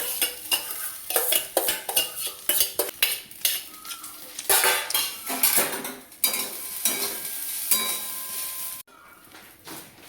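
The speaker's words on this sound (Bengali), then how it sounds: "জীবনে প্রথমবার পোলাও রান্না করছে, আর দেখো তোমরা পোলাওটা কেমন হচ্ছে।" Pulao rice is stirred in a cooking pot, the spoon scraping and clinking against the metal in an irregular rhythm close up, with a light sizzle underneath and a quieter stretch near the end.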